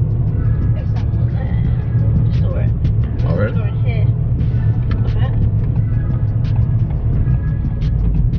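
A Ford Fiesta ST drives along, its engine and road noise forming a loud, steady low rumble heard from inside the cabin, with a voice talking over it.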